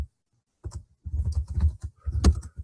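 Someone types a message on a computer keyboard in short bursts of close, crisp key clicks, with a brief silent gap before the rapid tapping resumes.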